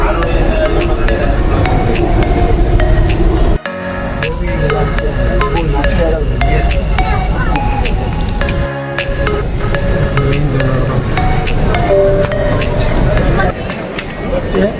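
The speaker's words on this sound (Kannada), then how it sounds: "ಮೆಟ್ರೋದಲ್ಲಿ ಹೋಗುವಾಗ" A moving metro train on a city pink line gives a steady loud rumble and rattle inside the carriage, with occasional sharp clanks and a brief dip. Passengers murmur faintly in the background.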